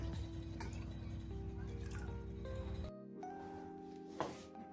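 Water added to a cooking pot for Latur-style bhaji curry, heard as a soft, close pouring and dripping with a brief clatter near the end, fairly quiet throughout.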